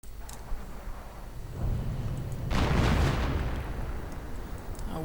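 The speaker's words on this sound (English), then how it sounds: "Well, the artillery's not really doing much either" Artillery fire in a real-time strategy video game: a deep, rumbling barrage swells to a loud peak midway and then fades slowly into a low, steady background of battle noise.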